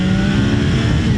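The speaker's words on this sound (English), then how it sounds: "That triple really likes to rev, and it's got quite an aggressive mid-range actually." A 2025 Triumph Daytona 660 with a three-cylinder engine, running loud and close in a continuous high-revving roar with no break across the short span.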